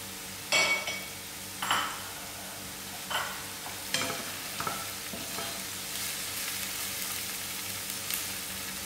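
Garlic cloves, onions, jeera and mustard seed frying in oil for a pilchard chutney, a steady close sizzle broken by several sharp spoon-stirring clanks against the pot.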